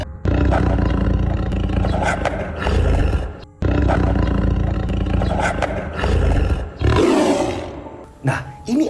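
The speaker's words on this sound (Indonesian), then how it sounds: "Tak lama kemudian, ini ada suara auman harimau." A tiger roar sound effect: two long, loud, rumbling roars in succession, followed by a rougher snarling burst, very close and filling the whole stretch.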